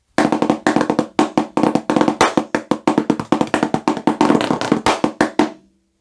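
Snare drum plays a trade-off solo at the faster 90 BPM tempo, a close, loud, dense stream of crisp hits in a busy syncopated pattern with a short ring-out at the end, no voices.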